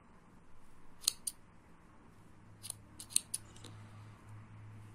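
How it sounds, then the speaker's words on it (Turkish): Small scissors snipping thread for Turkish needle lace, a few sharp, quiet clicks in two short clusters, close up over a faint background hum. "Şimdi keseceğim bunları. Aralarından kesiyorum."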